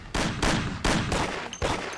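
Heavy gunfire in a shootout from the video game Mafia 1, four loud broadband blasts in an irregular rhythm, close and forceful, with no talk over them.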